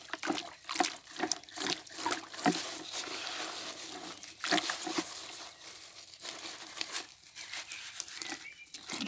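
Freshly dug comfrey plants are swished and rinsed by hand in water outdoors, with repeated soft splashes, trickles and crinkling of leaves in an irregular rhythm, fairly quiet and close.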